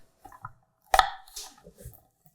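A knife chops potatoes in half for a salmon parchment packet, giving one sharp, close cut followed by a few softer taps and board knocks, alone with no talk.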